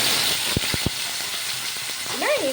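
Tomato, onion and green chilli pieces sizzle in hot oil with a steady broadband hiss, a few sharp crackles and pops, and a brief rising utensil squeal near the end.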